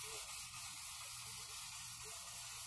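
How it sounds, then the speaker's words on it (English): Olive oil cooking spray hissing onto seasoned food in a home kitchen, a steady close hiss lasting the whole moment with no talk. "I have some olive oil spray on them."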